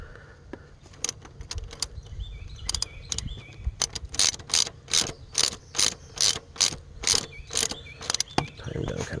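A ratchet wrench tightens bolts on the clutch slave cylinder of a Subaru Impreza, its rapid clicking coming in repeated close bursts with short pauses between.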